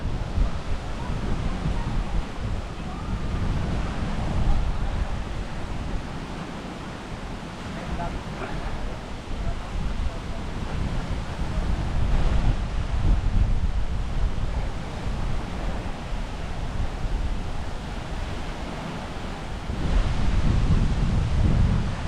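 Surf rolls in at Angol Beach, Station 3, in the Philippines, with loud, rumbling wash and gusting wind buffeting the microphone in waves of rising and falling intensity throughout.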